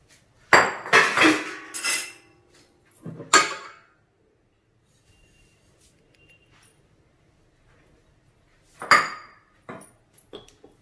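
Wheat paniyaram batter is stirred in a bowl, giving clattering scrapes and clinks of a spoon against the dish in a few short bursts with quiet gaps between, close and fairly loud.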